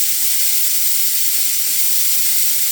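Massive 1960s LeRoi air compressor trailer hissing loudly and continuously at close range with a steady, unbroken rush of air.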